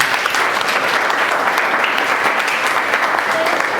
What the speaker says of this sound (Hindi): और जोरदार ताली हमारे प्रिंसिपल सर के लिए बजा दीजिए